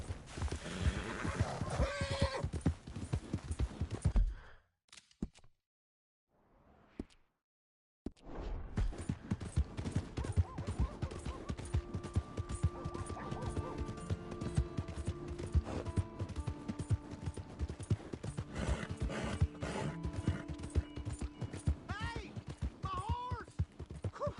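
Hoofbeats of a galloping horse in Red Dead Redemption 2, with a whinny near the start, a brief gap, then a steady rapid clip-clop under game sounds.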